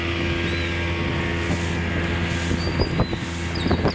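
A speedboat runs toward Maheshkhali off Cox's Bazar, its engine a steady loud drone mixed with wind buffeting and rushing water, with rougher thumps toward the end as the hull meets waves.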